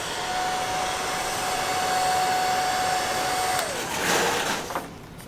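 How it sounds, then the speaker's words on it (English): A hair dryer blows steadily while drying water from paint protection film being installed on a Porsche 991.2 GT3 RS, a constant whooshing drone with a thin whine that drops in pitch and fades as it is switched off near the end. "We like to use a hair dryer in most cases just to help dry it up, the water"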